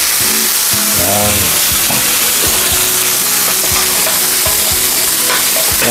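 Butter and garlic frying in a pan, a loud steady sizzle with stirring scrapes and clinks throughout, no voices.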